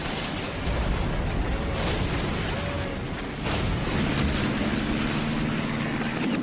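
Heavy naval guns of the German battleship Bismarck firing during a battle at sea, heard as loud, dense booming blasts and rumble that fill the whole stretch, with sharper bursts near the middle and a deep low drone toward the end.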